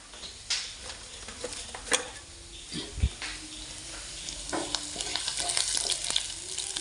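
Garlic fries in a pan, a soft continuous sizzle and crackle with a few clinks and taps of a spoon against the pan, fairly quiet and close.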